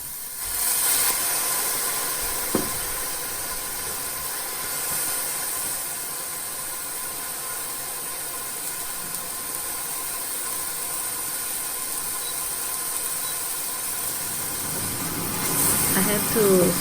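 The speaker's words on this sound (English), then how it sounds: "I have to switch off my chimney." A kitchen chimney exhaust hood runs over a tofu stir-fry with a steady, close, broadband whoosh of fan and airflow that holds level throughout, marked by one brief click early on.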